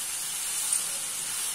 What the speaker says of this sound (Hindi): अब हम प्याज को लाइट ब्राउन कलर होने तक फ्राई कर लेंगे।